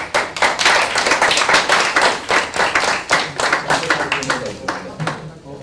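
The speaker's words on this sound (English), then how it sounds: "Get a round of applause for volunteers" Audience applause for volunteers at a personal finance presentation, a loud sustained burst of many hands clapping that thins toward the end, with voices mixed in.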